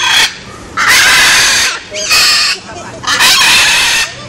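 A parrot laughing like a child, in three loud, shrill, close bursts of cackling with short gaps between them.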